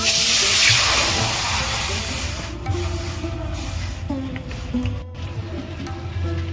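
Water coming to a boil in a pot for khichuri gives off a broad, steady hiss and rumble that is loudest at first and then eases. A faint voice is heard under it.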